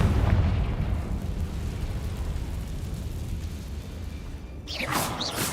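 Confringo fire spell blasting in Hogwarts Legacy, a sustained rumbling explosive roar that holds loud throughout, with a brighter crackling burst near the end.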